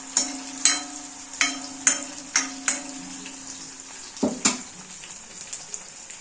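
Ingredients for sambar sauté in hot oil until golden brown, giving a steady close sizzle broken by regular scraping stirs that fade toward the end, with no talking.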